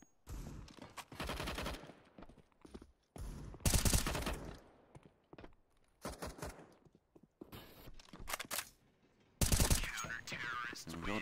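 Bursts of rapid gunfire from a Counter-Strike: Global Offensive match at a pro esports qualifier, several loud volleys separated by short gaps, with faint shuffling between shots.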